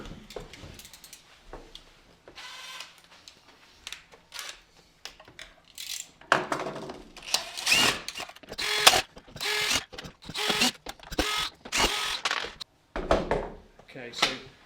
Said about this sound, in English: I'm going to remove this rear cover here, which is held on by 10 stainless steel machine thread screws